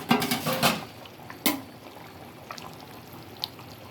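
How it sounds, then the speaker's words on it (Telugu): Fried fish pieces are dropped into a boiling fish curry (chapala pulusu), making a short burst of wet splashing and plopping, then one more soft splash, followed by a quiet simmer. "ఇప్పుడు మనం పక్కన వేయించుకొని పక్కన పెట్టుకున్న ఫిష్ వేసేద్దాం."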